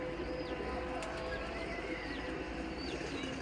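Pigeons coo softly at a gathering place in Gujrat, a steady low murmur of calls under faint background noise, with occasional fainter bird chirps.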